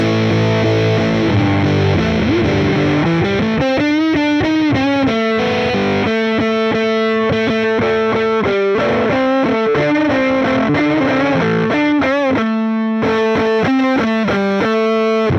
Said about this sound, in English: the gritty fuzz sounds good actually